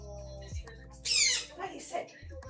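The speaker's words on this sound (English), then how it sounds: "there goes my bird, being a bird" A pet bird in a home gives a sharp, high squawk followed by a couple of shorter chirpy calls. The calls sit over low background hum, with faint voice-like sounds around them.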